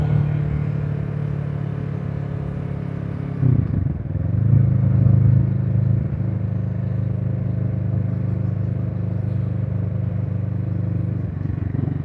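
A Kawasaki Z650 motorcycle riding on the road, its engine humming steadily up close, with a brief shift and change of pitch partway through before settling back into an even drone.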